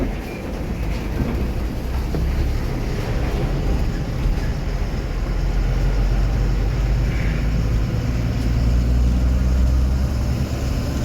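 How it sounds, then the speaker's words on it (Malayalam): A heavy goods truck engine starts and rumbles steadily in light drizzle, deep and loud throughout, with a faint rise in intensity toward the end. "വണ്ടി സ്റ്റാർട്ടായി"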